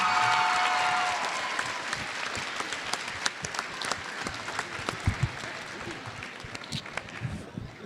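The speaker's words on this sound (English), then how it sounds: "let's give this entire group a round of applause and a thank you." A crowd claps steadily in a large room after a film screening Q&A at the New York Film Festival, a dense patter of applause that thins slightly toward the end, with a few louder claps and faint voices.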